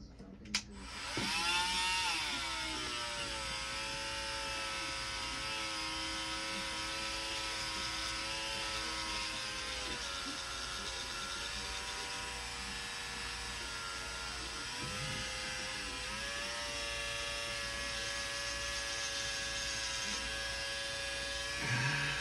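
A small power tool trims plastic on a PS5 shell, running as a steady high-pitched whine for over twenty seconds, close and loud, with slight pitch dips as it bites into the material.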